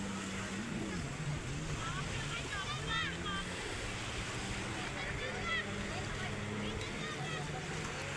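A speedboat rides on the sea off Goa, its motor droning steadily under rushing water, wind buffeting and spray, with people talking and voices rising over the engine.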